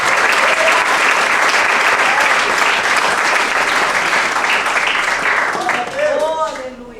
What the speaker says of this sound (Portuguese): Confie no Senhor Jesus Cristo e aplauda o nome dele nessa noite.